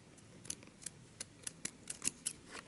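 Scissors snipping thread while covering a button by hand for a historical costume: about a dozen sharp, close metallic clicks in quick irregular succession over faint background noise.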